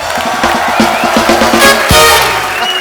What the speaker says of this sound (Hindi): सनी बाजी और बॉबी बाजी के लिए जोरदार तालियां हो जाए